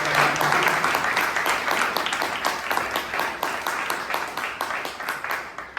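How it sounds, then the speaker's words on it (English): A crowd at a Toastmasters club meeting in Bangalore applauds with dense, steady clapping that carries on throughout and fades slightly toward the end. "So give us a big round of applause."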